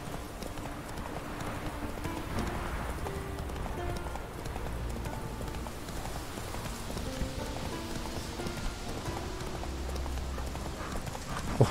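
In The Witcher 3, the horse Roach gallops with a steady, rapid clip-clop of hooves over a soft, rain-like wash of ambient game sound, with occasional faint talk.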